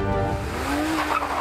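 Car in a chase stunt, engine note rising with a brief tire squeal, loud and close over a short stretch.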